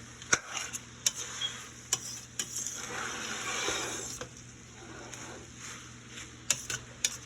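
A pot of frying meat and rice sizzles steadily while a utensil stirs it, with sharp metallic scrapes and clanks against the pot breaking through at irregular intervals over several seconds.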